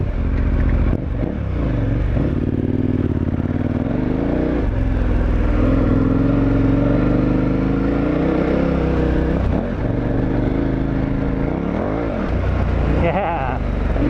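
A dual sport motorcycle on Mitas E-10 Dakar tires rides a trail, its engine droning loudly and rising and falling in pitch through gear changes, while someone talks over it.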